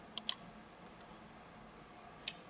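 Computer mouse clicks on a desktop setup, two quick close clicks followed by a single click about two seconds later, crisp and near against a quiet room hum.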